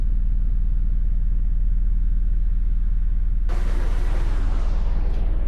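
A car in Car Mechanic Simulator 2018 rumbles on a brake tester with a steady low drone, then a loud broadband roar starts partway through and slowly fades.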